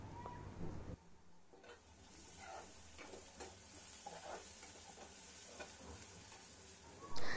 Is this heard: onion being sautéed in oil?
yes